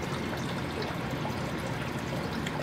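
Water pours and trickles into an indoor aquaponic flood and drain grow bed through an elbow adapter, a steady close splashing flow at moderate volume, with no voices.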